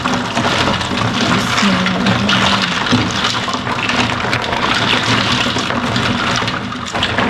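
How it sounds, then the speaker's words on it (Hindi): Warm oil being poured into cold water and stirred for homemade margarine makes a steady, close watery splashing and swirling that runs throughout, with slight low rumble underneath. "अब जो है हम इस ठंडे पानी में डालेंगे।"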